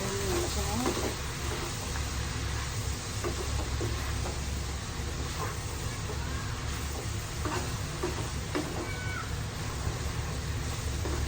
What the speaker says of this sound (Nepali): हामीले माथि हामीले नुडल्स हाल्छौँ। त्यसको लागि चाहिँ मजाले बनाउँदै चलाउँदै